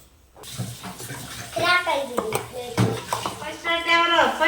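Plates being washed with water in a village home kitchen, with clinking dishes and running, splashing water under close conversational talk.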